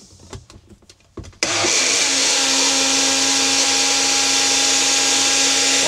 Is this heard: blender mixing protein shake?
yes